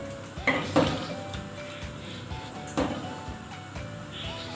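Evaporated milk is stirred into macaroni sopas in a pot, giving soft scraping and a few spoon-on-metal clinks over a steady low simmering background.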